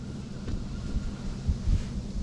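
Steady wind buffets the microphone on a lake during bass fishing, a continuous low rumble with gusts swelling and easing, with no speech.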